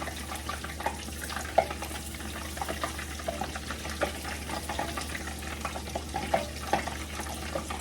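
Cheese curds deep frying a few at a time in oil, a steady bubbling sizzle with scattered sharp pops and crackles over a low constant hum, no voices.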